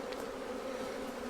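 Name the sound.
honey bees flying around an opened hive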